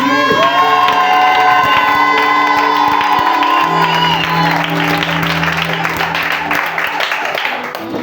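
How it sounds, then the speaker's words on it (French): Church congregation cheering, shouting and whooping loudly in praise, a dense sustained crowd roar with some clapping, filling the space throughout. "Est-ce qu'on peut acclamer très fort Jésus?"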